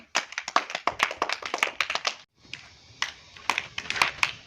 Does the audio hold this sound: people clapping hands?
yes